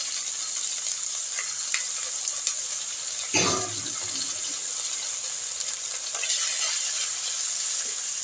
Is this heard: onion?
yes